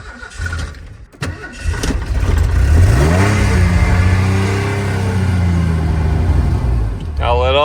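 A Ford F150's fuel-injected engine cranks and catches with a loud rev, runs rough for several seconds, then sputters and winds down as it dies, with a voice speaking over it.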